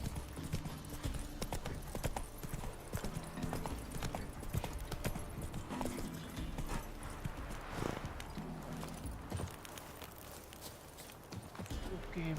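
Roach the horse galloping in The Witcher 3, rapid rhythmic clip-clop hoofbeats with occasional snorts over game ambience, steady and fairly close throughout.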